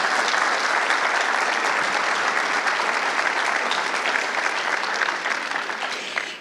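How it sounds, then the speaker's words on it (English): Sustained, dense applause from a large audience at a bar swearing-in ceremony for new lawyers, steady and loud for over six seconds before fading at the end. "big round of applause to the parents and support networks here"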